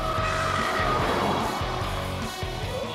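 Tesla Model 3 cornering hard on a test track lap: a continuous loud rush of tire and road noise with tire squeal, and no engine note, sustained throughout.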